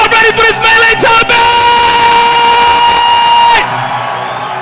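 A Toronto crowd at a Super Smash Bros. Melee tournament cheers and whoops loudly in sustained bursts, with a piercing tonal blare running through the noise until it cuts off abruptly near the end.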